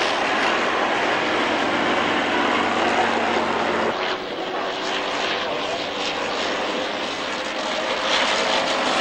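Vintage WWI aircraft engines drone loudly at a Shuttleworth Collection military airshow at Old Warden, a continuous roaring pass that dips briefly midway and then swells again, with no talking.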